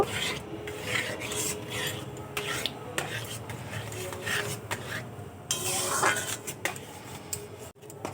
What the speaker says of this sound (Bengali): অল্প হিটে আমি এভাবে নাড়াচাড়া করে সুজি দিয়ে ডোর তৈরি করে নেব